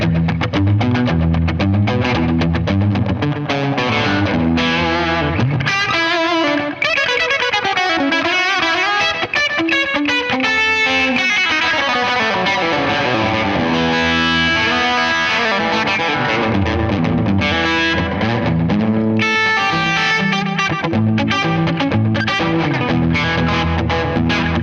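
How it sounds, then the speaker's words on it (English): Electric guitar through a dedicated slapback delay pedal, played continuously with distorted chords and single-note lines, each note followed by a quick single echo, loud and close with no talk. "Okay, so a dedicated slapback delay."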